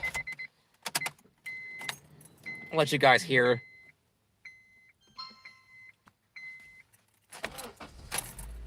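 A car engine cranks and fires up near the end, heard close and loud after a run of electronic beeps and jingling keys, with someone talking over the earlier part.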